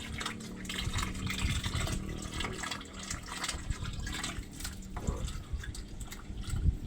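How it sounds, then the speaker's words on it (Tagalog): A weak stream of water runs into a drum being filled as a stored supply, a soft continuous trickle and splash, faint and fairly close, with no talk. "Kasi mahinang daloy ng tubig natin ngayon."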